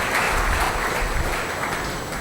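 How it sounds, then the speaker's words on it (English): Sustained audience applause at an advisory board event, dense steady clapping from a crowd filling the room at constant loudness, with no talk over it. "Bigger round of applause."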